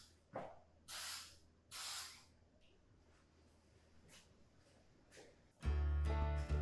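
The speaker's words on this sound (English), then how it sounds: "I finished this in a water-based poly. I chose to do the rattle can version" A rattle can hisses out water-based polyurethane in two short close bursts over a small wooden wine rack, then falls quiet, with a louder buzzing noise near the end.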